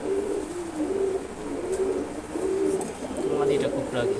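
A pair of Silver Gorra pigeons coo close by in repeated soft, rolling phrases. A voice talks quietly under the cooing.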